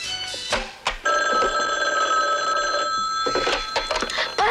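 A telephone bell rings loudly and close by in a sustained, continuous trill, framed by brief knocks and faint voices at the start and end.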